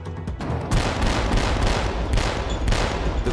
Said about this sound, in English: So right now we'll move into shooting a slowly moving target.